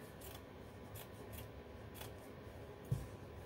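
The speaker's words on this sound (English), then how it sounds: "And cut the fabric" Scissors snip through fabric for a round punch needle display, soft quiet cuts repeating about every half second, close but faint, with a small knock near the end and no talking.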